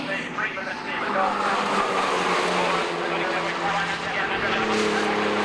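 Porsche 968 race cars at Snetterton circuit, engines roaring continuously as a pair swap places on track during the 2000 Pirelli Porsche Cup, with commentary spoken over the steady drone.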